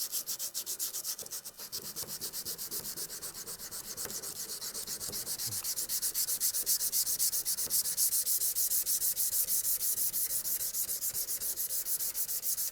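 Steady, continuous hand sanding on a Damascus chef's knife blade, a dry rubbing scrape repeating in quick back-and-forth strokes, close and fairly loud throughout with no talking.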